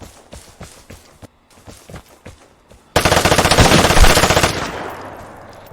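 A few quiet shots and footsteps, then a loud sustained burst of rapid gunfire from a combat magnum revolver in the video game Vigor that fades out toward the end.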